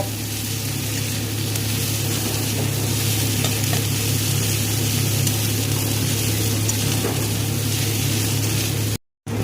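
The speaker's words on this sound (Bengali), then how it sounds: "একই সাথে টমেটো আর আদাটাকে ভালো করে মশলার সাথে কষিয়ে নেব বা ভেজে নেব" Steady sizzling of tomato and ginger frying with spices in a pan, continuous and close, with faint stirring scrapes and a brief cutout near the end.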